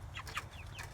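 Chickens from a slow-growing hatchery batch clucking softly nearby, several short, quiet calls scattered over a faint background with no talking.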